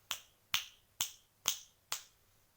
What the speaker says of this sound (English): Teacher says snap your fingers